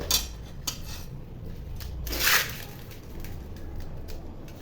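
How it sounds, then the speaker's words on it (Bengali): A knife cuts through magur catfish in a series of short scraping and rasping strokes, with one louder, longer scrape in the middle, close up and without speech. "এখন মাছগুলো আমি কেটে দেখাবো।"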